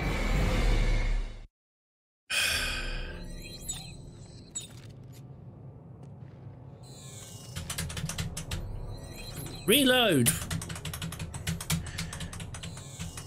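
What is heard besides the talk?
computer keyboard keys being pressed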